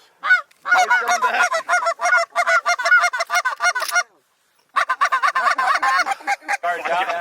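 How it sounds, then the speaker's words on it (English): A flock of geese flying in from the west during an early-season goose hunt in Washington State, honking loudly and repeatedly in overlapping calls, broken by a short silent gap before the honking resumes. "Some geese coming from the west."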